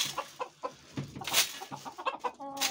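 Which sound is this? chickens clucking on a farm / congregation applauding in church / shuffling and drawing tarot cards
chickens clucking on a farm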